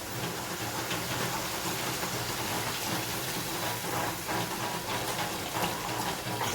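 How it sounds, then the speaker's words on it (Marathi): Water poured into a pan already holding yogurt, part of a sorghum flour recipe, making a steady, close splashing stream that continues evenly throughout. "दोन वाटी पाणी घालणार आहोत आपण"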